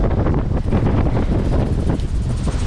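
Strong wind of over 50 knots during an Atlantic sailing crossing roars and buffets steadily across the whole clip, a dense low rumble with gusting texture and no clear voices.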